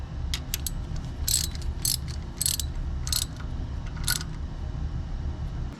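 Ratchet clicking as a timing belt tensioner on a Nissan Pathfinder engine is tightened, with several short bursts of rapid metallic clicks at close range over a low background hum.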